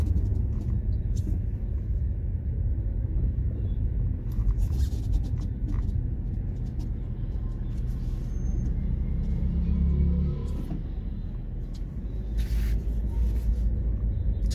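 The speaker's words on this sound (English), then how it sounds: "So this road is one of the busiest roads of the Gambia." Steady heavy traffic on one of the busiest roads in The Gambia, a continuous low rumble of cars and buses passing with occasional brake hiss and bursts of higher noise, no talking.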